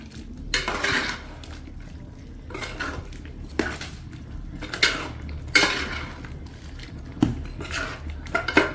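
A spoon stirs a boiling varutharacha chicken curry in a pot, with sharp metal clanks and scrapes coming in irregular bursts over a low simmering background, close up and with no voices.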